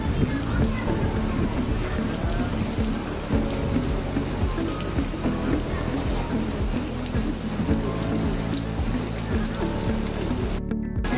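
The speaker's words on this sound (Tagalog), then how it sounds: "inabot tayo ng ulan" Rain falls steadily in a dense, continuous patter of drops hitting surfaces all around. Low rumbling runs underneath the shower, and near the end there is a short burst of other noise.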